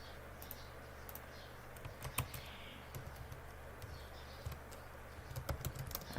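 Keys tapped on a computer keyboard in steady bursts of light clicking over a constant low background hiss, fairly faint and close, with no voices.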